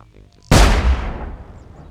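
A single loud, booming gunshot from the video game Sir, You Are Being Hunted, sharp at onset and decaying over about a second, preceded by faint background sound.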